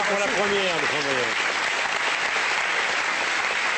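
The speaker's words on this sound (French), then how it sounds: "on applaudit Olivier Cantrou" A television studio audience applauds a guest on a French Sunday variety show, with steady, dense clapping that carries on throughout; a voice speaks over the opening moments.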